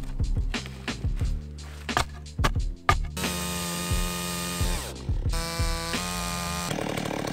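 Chainsaw cutting a fallen log to build a ramp onto a skinny log bridge, engine revving in repeated bursts with idle drops between cuts, then a sustained loud cut, close by.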